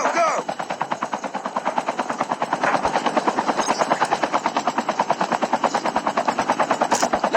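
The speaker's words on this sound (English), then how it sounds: "There's another chopper there." A helicopter in the Call of Duty Mobile battle royale video game thumps with fast, rhythmic rotor beats throughout, loud and close, with occasional gunfire bursts mixed in and no speech.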